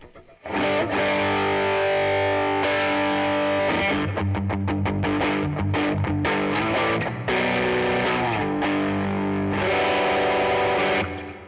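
Heavily distorted electric guitar through a 1981 Inventions DRV distortion pedal at high gain, thick and saturated, with sustained chords and choppy bursts, loud and continuous with a touch of reverb.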